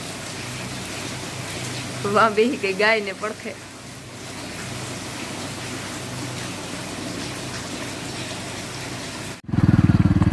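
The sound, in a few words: steady rain falling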